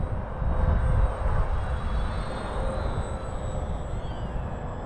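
An RC model airplane flies in high wind, its steady engine drone fairly faint against rumbling wind noise, with a thin whine drifting in pitch overhead.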